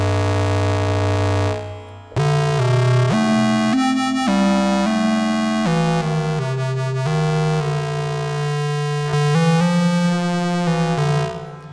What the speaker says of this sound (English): have the ring modulated between my signal and that internal oscillator